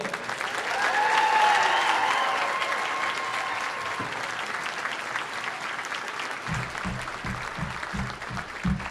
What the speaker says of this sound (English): Please keep your applause going for the 6th grade band.